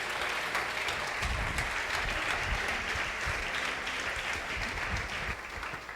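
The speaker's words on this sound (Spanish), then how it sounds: "Yo le daría un aplauso a mi rey" A church congregation applauds during a sermon, a continuous wash of clapping at moderate volume with some low rumbling underneath, steady throughout.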